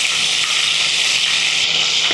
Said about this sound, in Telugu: మామూలుగా నువ్వులు వేస్తే చిట్పటా అంటుంది స్టార్టింగ్లో